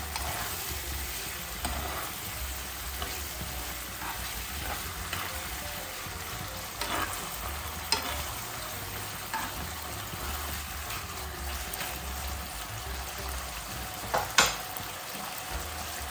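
Spaghetti all'assassina frying in a pan with tomato sauce, a continuous loud sizzle with crackles and occasional sharper pops from stirring, steady throughout with no talking.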